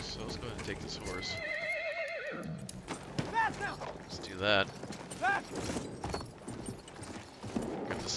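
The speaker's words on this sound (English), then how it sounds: "So let's go ahead and take this horse." A horse in Battlefield 1 neighs several times in short bursts, and its hooves clip-clop amid battle noise while someone talks over the game.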